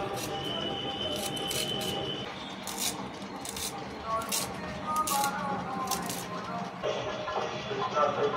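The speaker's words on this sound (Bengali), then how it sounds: "শাকগুলো ঝুরঝুরি করে কেটে নিচ্ছি।" A knife chops leafy greens finely on a board with quick, steady cutting strokes, close by, while a voice speaks over the work.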